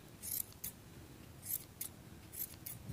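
Scissors trimming the yarn ends of a crocheted granny square, a series of sharp close snips coming in quick pairs with short quiet gaps between them.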